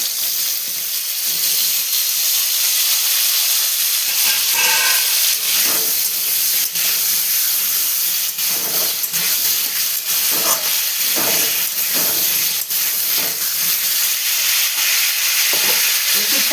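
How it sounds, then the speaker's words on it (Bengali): Potatoes frying in oil for a Bengali fish curry with cauliflower produce a loud, continuous close sizzle and hiss, broken by repeated stirring scrapes and clatters. "এবার আলু দিয়ে দেবো আলুগুলো লাল লাল করে ভেজে নিতে হবে"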